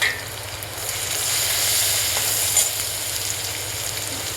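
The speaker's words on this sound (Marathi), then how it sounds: "सर्वात प्रथम आपण आलं लसूण बारीक चिरलेले टाकून घेणार आहोत।" Finely chopped ginger and garlic hit hot oil in a pan and sizzle loudly up close, a dense and even hiss that holds steady throughout with a faint stirring clink near the middle, with no one speaking.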